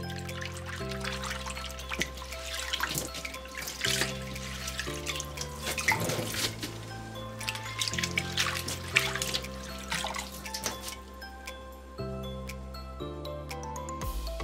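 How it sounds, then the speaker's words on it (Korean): Bean sprouts are rinsed under a running tap while a tofu salad is prepared, with water splashing and trickling steadily into the sink beneath soft background music. "콩나물은 두 번 정도 헹궈주고"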